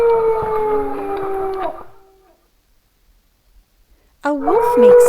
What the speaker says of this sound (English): A wolf makes this sound.